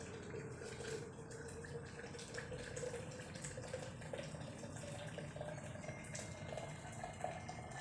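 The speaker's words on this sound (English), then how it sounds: "I'm pouring in the hot water into the first jug now." Hot water pouring into a jug for a Charles' law balloon demonstration, a steady, continuous watery splash and trickle running close and fairly quiet throughout, with no talking.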